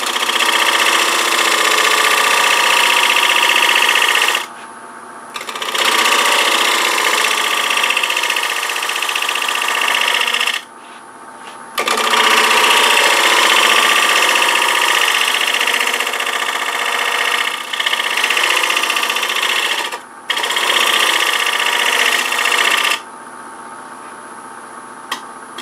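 A wood lathe cuts with a long-grind bowl gouge making pull cuts while turning a three-leg stool, a loud, steady broadband hiss and whir broken by several brief pauses where the tool lifts off.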